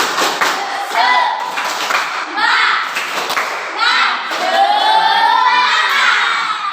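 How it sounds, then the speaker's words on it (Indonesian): A classroom of children doing a rhythmic tepuk semangat clapping chant, loud shouted group chanting in bursts with claps and thumps interleaved, all close and energetic. "kita mulai dengan tepuk semangat"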